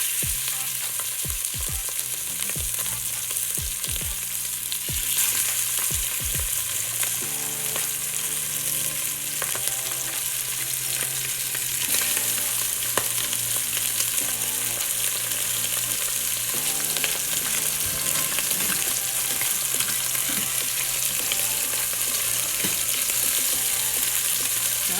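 Chicken thighs frying in olive oil in a pan give a steady, close sizzle and crackle, with a few sharp pops and clatters early on as pieces go in, no talking over it.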